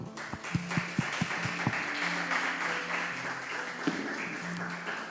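A church congregation gives applause, a few distinct claps opening into a fairly quiet spread of clapping with a sustained tone and faint voices underneath.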